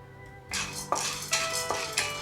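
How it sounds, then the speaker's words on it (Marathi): Split chickpeas roast dry in a pan over a low flame while a metal spoon stirs them, making about four sharp clattering scrapes that ring against the pan, close and clear with no voices. "हाफ कप डाळे छान असे भाजून घ्यायचे"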